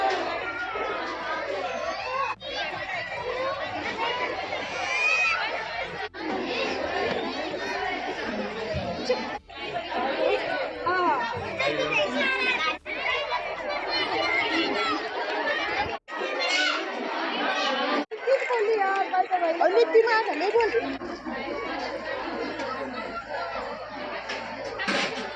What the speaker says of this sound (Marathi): मकर संक्रांतीनिमित्त चाकण येथील चक्रेश्वर मंदिर या ठिकाणी महिलांनी दर्शनासाठी मोठी गर्दी केली होती.